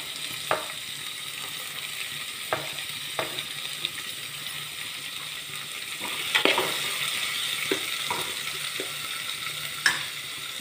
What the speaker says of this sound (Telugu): అందులో ఉల్లిపాయ ముక్కలు వేస్తున్నా, పచ్చిమిర్చి కూడా వేస్తున్నా